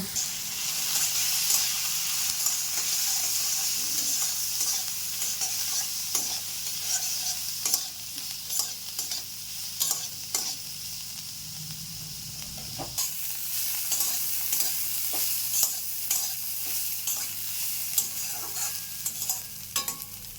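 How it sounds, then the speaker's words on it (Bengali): Mashed figs being mixed with salt and turmeric in a hot pan: a soft ongoing sizzle with repeated spatula scrapes and clicks, briefly louder near the middle, nobody talking. "পরিমাণ মতো লবণ হলুদ দিয়ে ভালো করে মিশিয়ে নেব।"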